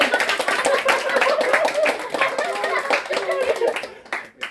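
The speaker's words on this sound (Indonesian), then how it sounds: "Tepuk tangan buat mereka." At a farewell gathering celebrating two graduates, a group claps in a busy, continuous patter while people talk and call out over it, fading toward the end.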